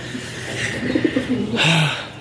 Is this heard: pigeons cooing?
yes